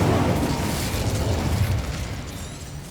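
A fiery burst from the Incendio spell in Hogwarts Legacy erupts loudly at the start and then rumbles and crackles, slowly fading away over a few seconds.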